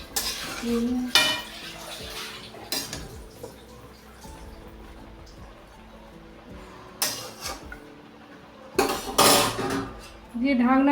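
Bottle gourd greens being stirred in a metal pan, a utensil scraping and clinking against the pan in repeated bursts over a low steady background.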